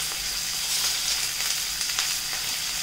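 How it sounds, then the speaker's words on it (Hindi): Two large sliced onions frying in a pan for dal gosht, mutton with lentils: a loud, steady close sizzle with light stirring scrapes throughout, no speech. "ये दो बड़े प्याज हैं, इसको हम डाल देते हैं और इसको भूनेंगे जब तक ये हल्का ब्राउन हो जाएगा"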